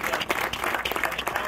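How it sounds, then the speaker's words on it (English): A crowd applauds steadily at an announcement event in Pulaski, Virginia, for a 3D printed housing project, dense clapping filling the room at an even level throughout. "You've got to give another round of applause"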